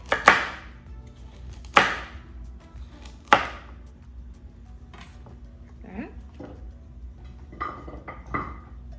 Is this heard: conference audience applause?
no